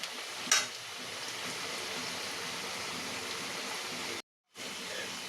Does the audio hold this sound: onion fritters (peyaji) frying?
yes